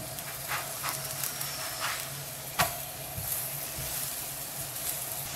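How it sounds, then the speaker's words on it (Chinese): Leek-filled flatbread fries in a preheated, oiled flat skillet, giving a faint, steady sizzle and hiss with a few soft ticks and one sharp tap, no voices. "平底锅预热刷油，油热以后放入擀好的小饼，小饼的表面也淋少许的油"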